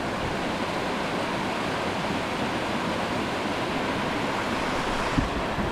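Steady, dense rushing water roar, constant and close, with no pauses or voices, like a waterfall pouring nearby in the Alaskan high country.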